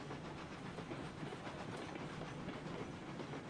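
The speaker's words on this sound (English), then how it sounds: "Using a diesel electric locomotive" Diesel electric locomotive running in the Railroads Online video game, a steady dense rumble with rhythmic clickety-clack and a faint hiss, continuous and fairly close with no talking.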